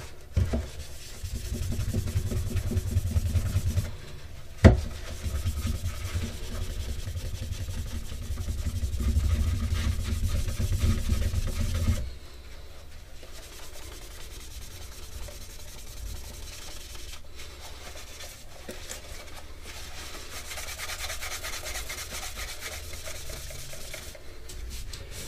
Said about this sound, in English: There's a few spots on this bracer that I want to go over with a little bit more rub and buff.